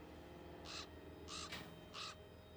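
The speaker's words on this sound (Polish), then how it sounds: "Jebany kruk." Raven cawing in the video game Black Mirror II: three separate harsh caws spaced about half a second apart, clear and fairly close over a quiet ambient background.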